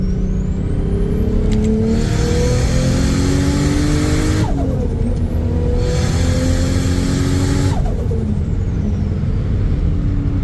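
A Nissan Silvia S13 coupe with a turbocharged RB25DET engine revs hard in third gear, loud and close, with rising engine tones climbing through repeated pulls and turbo spool whine between bursts.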